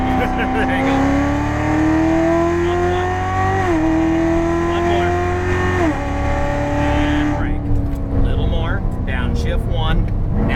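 A Chevrolet Corvette C7 accelerating hard on a race track, its loud engine note climbing through gears with audible shifts, then easing off; an instructor talks over the sustained roar.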